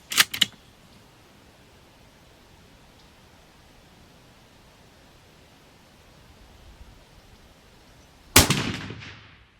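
A .308 Outlier rifle fires two sharp, loud shots outdoors. The first comes at the very start and the second about eight seconds later, ringing briefly after it, with quiet in between.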